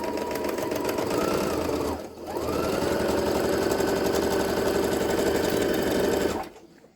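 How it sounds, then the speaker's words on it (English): A sewing machine stitching down pillowcase fabric runs loud and close with a fast steady whirring hum, pausing briefly once, then running on before winding down at the end. "And I'm just going to sew down."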